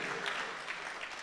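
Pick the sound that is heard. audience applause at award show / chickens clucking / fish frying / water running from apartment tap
audience applause at award show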